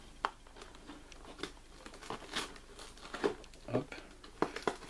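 Crinkling and tearing of plastic and cardboard packaging as a Lego Star Wars Vulture Droid set (75041) is opened, with irregular close rustles and crunches, and a voice speaking faintly in the background.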